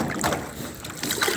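A boat pushes through flood water two days after Typhoon Carina, with a steady broadband rush of water and wind noise that holds throughout, close to the microphone.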